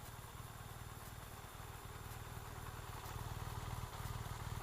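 A 2013 BMW R1200 GS motorcycle engine idles with a low, steady, rhythmic thrum, faint and continuous, rising slightly in loudness toward the end.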